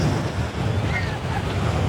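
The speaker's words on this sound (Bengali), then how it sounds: "কি হাওয়া!" Strong sea wind buffets at Puri beach with a loud, continuous roar. Crashing surf sits underneath it.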